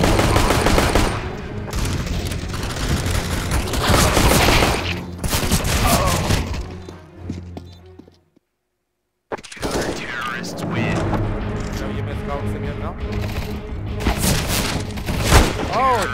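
Rapid bursts of gunfire from CS:GO on the Dust 2 map crack loudly in dense volleys, pausing into near silence for about a second before heavy firing resumes.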